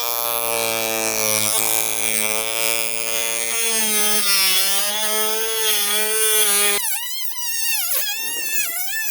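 Loud, steady high-pitched whine of a power tool cutting through a shed roof sheet, pitch rising and wavering as the blade bites, then shifting to a harsher, warbling tone near the end of the cut.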